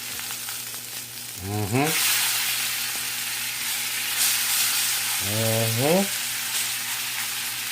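Filet mignon frying in butter in a pan gives a steady, close sizzle throughout, while a voice hums twice in brief rising murmurs over it.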